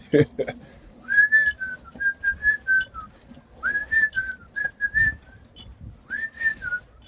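A man whistles a short, repeated melodic phrase, about five clear bursts with pauses between them, fairly close and quiet over faint background noise.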